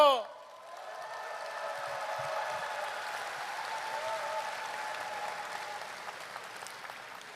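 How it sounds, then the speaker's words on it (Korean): A crowd at a Korean political party convention applauds in a soft, sustained wash of clapping heard from a distance, starting just after a voice and continuing steadily throughout. "여러분 우렁찬 격려와 함성의 박수 한번 부탁드립니다"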